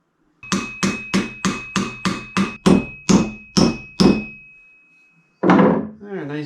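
A walnut wedge is driven into place with about a dozen sharp, evenly spaced hammer blows, loud and close, each ringing briefly. After a pause comes one heavier strike, then a short vocal sound.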